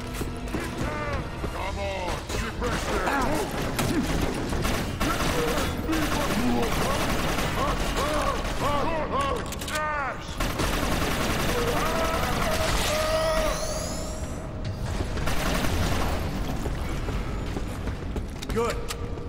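Video game gunfire crackles in rapid bursts of shots and automatic fire, mixed with mechanical clanks and other game effects over a dense, busy background.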